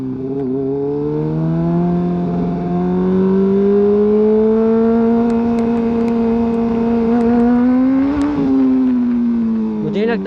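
A Honda CBR 1000 sportbike accelerates hard, its engine note climbing steadily in pitch as it revs up loud and close, then dipping briefly near the end as it shifts.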